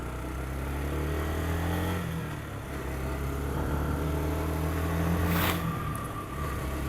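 A motorcycle engine runs with its choke just adjusted, holding a steady, close, humming drone that dips briefly and then builds again, with no talking.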